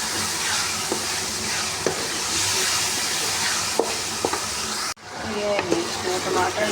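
Tomatoes sizzle in hot masala in a pan, a steady close frying hiss with occasional stirring knocks. A brief cut interrupts it, and someone speaks over parts of it.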